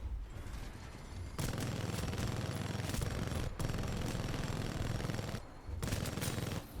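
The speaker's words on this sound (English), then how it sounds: "Got a big LMG that I can spool up" A spooled-up LMG in a video game fires in long, dense, continuous bursts, loud and close. Two brief gaps break the sustained machine-gun roar.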